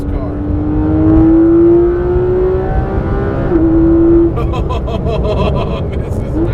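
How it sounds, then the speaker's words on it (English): Porsche 991 GT3 RS engine revving hard from the cabin, a loud rising howl that climbs steadily for several seconds, drops on a gear change, then pulls again and cuts off into a softer rumble with road noise. "The engine sound, I don't really think could get much better than that, huh?"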